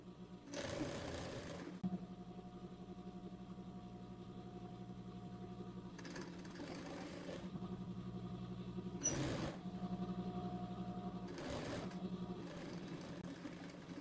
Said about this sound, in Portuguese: Abaixa a agulha e vamos lá. Costura com costura.